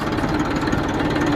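A tractor engine chugs steadily while driving along, a loud, rapid knocking rhythm that holds without break for the whole brief moment.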